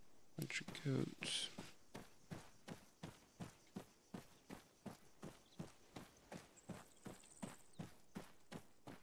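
Goats moving about in the Arma 3 video game, producing a steady run of evenly spaced hoof-like clops that repeat for the whole stretch, with brief talk near the start.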